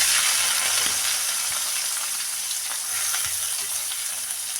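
Green chilli and onion fry in hot oil with a steady, close sizzle and crackle that carries throughout, with occasional soft stirring clicks and no talk.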